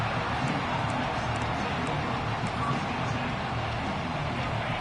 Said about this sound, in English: This crowd, full throat, spreading the eardrums and letting them know it's going to be a long day